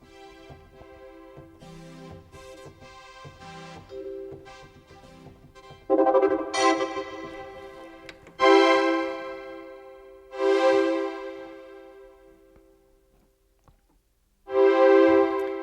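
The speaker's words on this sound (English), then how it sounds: "so I have the slow, mellow strings there" Sustained, mellow string-pad chords from a Hammond SKX keyboard swell in slowly and ring out, a few separate chords with brief gaps between them.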